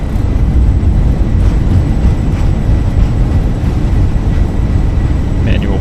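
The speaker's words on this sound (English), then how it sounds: "Spoilers up. Thrust reverse is full." Loud, steady roar of Fenix A320 jet engines at full reverse thrust just after landing at Marseille in Microsoft Flight Simulator, a dense broadband rumble holding constant throughout with no speech.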